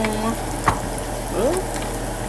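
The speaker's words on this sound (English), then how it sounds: "We got the chicken, got the rice, this is cooking, got the onions" Chicken, rice and onions cook together in a skillet, giving a soft, steady frying hiss with a brief clink of a utensil partway through.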